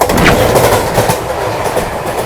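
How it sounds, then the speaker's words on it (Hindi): The Mangla Lakshadweep Express pulls away from Chhata station. The loud rumble of the moving train fills the clip, with steady rhythmic clatter from the wheels close by. "हमारी ट्रेन जो है डिपर्च हो चुकी है छाता से"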